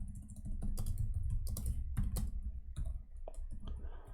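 Typing on a computer keyboard while entering an SSH command, irregular bursts of sharp close key clicks and taps with short pauses between them, no voice.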